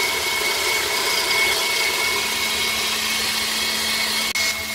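An electric mixer with a beater attachment whirring at maximum speed in a bowl for cheesecake batter, a loud, close, steady motor drone with a constant high whine, briefly interrupted near the end.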